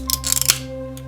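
Plastic Mountain Dew bottle cap twisted open, a quick run of small cracking clicks followed by a brief hiss of released fizz, close up over a steady background hum, no talking.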